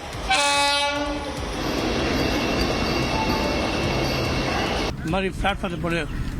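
Vande Metro train on a trial run from Chennai Beach, its horn blaring near and loud at the start, then a steady rumble of the passing train with people talking over it near the end.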